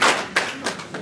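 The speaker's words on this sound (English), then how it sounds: "We're going to give God a hand clap of praise." A church congregation gives a short burst of hand clapping in praise during a homegoing funeral service, a few loose claps close by lasting about a second.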